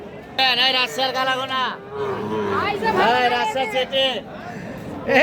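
Several cattle moo loudly in long drawn-out calls, overlapping one another amid a busy crowd chattering at a livestock market.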